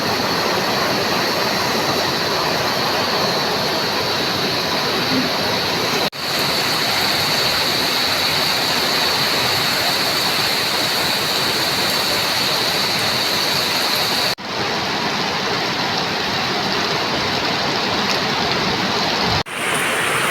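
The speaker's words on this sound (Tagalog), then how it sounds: "Saglitang ulan pero grabe oh" Dense, steady broadband rush of a heavy downpour pouring down without pause around a house in the Philippines, loud and close, with a couple of brief cuts.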